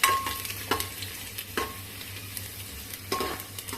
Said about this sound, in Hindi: यहीं पे हम लहसुन डाल देते हैं। इसको भी इसी में भून लेंगे लाल होने तक।